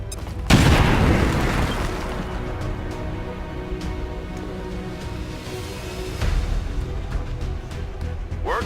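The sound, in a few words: grenade explosion in the video game XCOM 2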